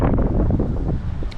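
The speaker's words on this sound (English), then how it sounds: "that strong wind come down the stream there now" Strong wind gusting down a stream in Manchester city centre, a loud, steady rumbling roar buffeting close to the microphone with no pauses.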